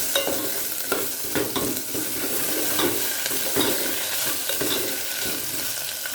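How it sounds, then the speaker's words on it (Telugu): Ginger garlic paste is stirred into sambar in a hot pan, heard as a continuous close sizzle with repeated scraping strokes of a spoon against the pan, steady and fairly loud throughout. "ఇప్పుడు కొద్దిగా అల్లం వెల్లుల్లి, 1/2 టీ స్పూన్, వేసి ఒకసారి కలుపుకోవాలి."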